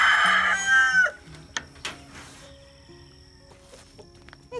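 A broody black copper Marans hen sitting on eggs gives a loud, close, drawn-out squawk, then a few low clucks and soft scattered calls that fade toward quiet.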